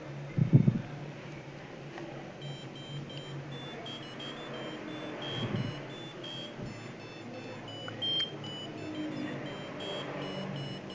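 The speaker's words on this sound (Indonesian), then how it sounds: "disuarakan melalui passive buzzer" A passive buzzer driven by an Arduino Uno PWM tone generator plays a series of thin, faint electronic beeping tones over a low background hum, with a couple of brief knocks near the start.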